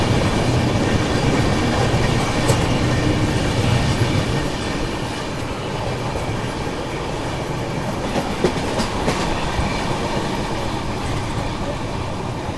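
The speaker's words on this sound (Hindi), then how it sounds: "ये देखो आगे की साइड WAP7 लोकोमोटिव लगा हुआ है।" Pune–Kanyakumari Express train hauled by a WAP7 electric locomotive, heard as a steady rail rumble with clickety-clack from the carriages over the whole stretch, loud and continuous, with faint talk in the background.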